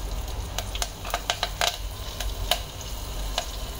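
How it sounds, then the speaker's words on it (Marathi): Cumin seeds, asafoetida and curry leaves hit hot ghee in a pan and pop and crackle in sharp bursts over a low sizzling hiss, close and quiet, with no voices. "आणि आता ह्याच्यामध्ये आपल्याला जिरं घालायचं आहे आणि हिंग"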